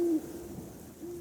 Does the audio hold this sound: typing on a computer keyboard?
no